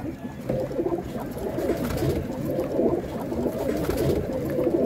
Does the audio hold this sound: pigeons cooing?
yes